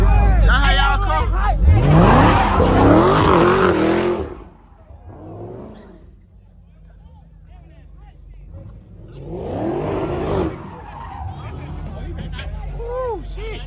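At an Atlanta street takeover, a car's tires squeal and skid with rising and falling screeches and a revving engine, loud and close at first, then fading and returning, with a crowd talking and shouting throughout.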